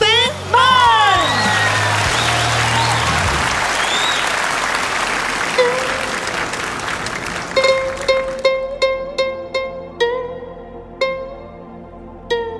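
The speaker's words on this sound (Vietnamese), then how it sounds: "Một tràng pháo tay thiệt lớn và thiệt kêu cho thí sinh Ngô Tiến Minh" A studio audience at The Nail Voice singing contest applauds loudly for contestant Ngô Tiến Minh. Cheering and talk run over the clapping at first, then a bright stringed instrument enters and plays single plucked notes as the applause fades.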